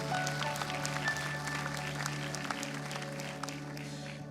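Church congregation clapping together in praise, a steady dense patter of many hands held at a moderate level over a low hum, with no talk during it.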